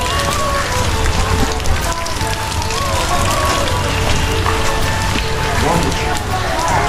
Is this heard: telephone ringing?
no